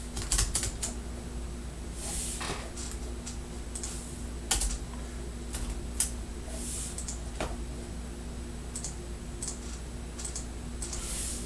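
Someone types on a computer keyboard in a quiet room, with irregular bursts of soft clicking keystrokes and brief pauses between them.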